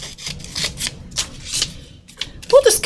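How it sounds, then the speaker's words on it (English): Scissors cut out paper pieces for an art journal, making repeated close rustling snips and paper handling sounds, with a brief voice near the end. "We'll just cut all these out."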